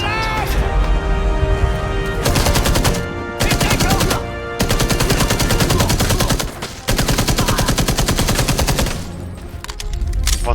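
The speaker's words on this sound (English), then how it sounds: "The breaches also have this annoying audio bug where the animation of the gun is all cool and slow-mo," Rapid automatic gunfire from a slow-motion breach in the video game Enemy Front plays at normal speed, loud, dense bursts broken by short gaps, with a few abrupt cutoffs where the audio falls out of sync.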